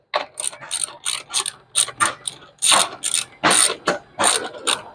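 A ratchet wrench loosening a 10 mm bolt on a Royal Enfield Classic 350 engine, with close, loud rapid clicking bursts in a steady back-and-forth rhythm.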